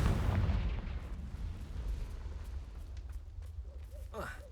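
The Confringo spell in a Harry Potter video game sets off a booming blast that starts loud, then rumbles and decays over several seconds, with faint game effects trailing at the end.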